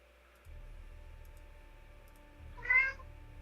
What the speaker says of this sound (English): Yes, that is the little demon cat that wants out.